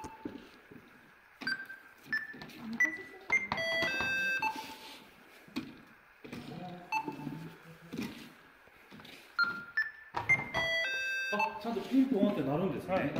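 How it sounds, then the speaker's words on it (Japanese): Electronic chimes and beeps from a Table Combi kitchen scale while weighing potatoes: repeated short tonal pings scattered through the stretch, some in rising clusters, mixed with handling clatter and people talking. "ピンポンってなるんですね。"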